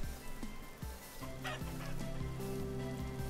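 Chickens clucking in the video game Vintage Story, a run of short repeated clucks over a steady ambient hum, fairly close and moderately quiet.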